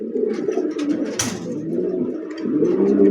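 Racing pigeons on a pigeon farm coo in soft, repeated rolling calls close by, with a brief flutter midway.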